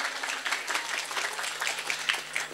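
An audience at a religious sermon gathering claps together, brisk uneven hand claps forming a steady burst of moderate loudness with a faint low hum beneath.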